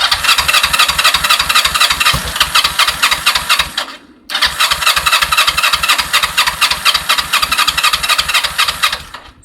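A Kawasaki ER5 motorcycle engine fires up and revs with a loud, steady pulsing beat, cutting out briefly before catching again and running on strongly.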